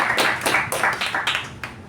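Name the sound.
audience applause at a meeting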